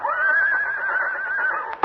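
A horse whinnies once in a long, loud, wavering neigh that carries almost two seconds and ends in a short snort, with no other sound around it.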